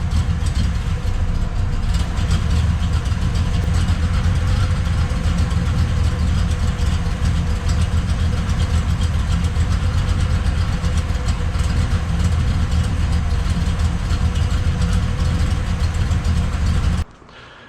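A Mopar V8 engine idles steadily while warming up before ignition timing is set, a continuous loud low rumble that runs almost the whole time and then cuts off abruptly near the end.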